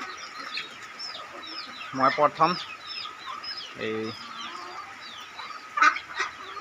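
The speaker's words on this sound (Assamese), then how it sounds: "কুকুৰা হাঁহ একেলগতে ধান খাইছে।" Chickens cluck and a duck quacks in short bursts nearby as they eat paddy together, with a brief spoken phrase and faint background chirping.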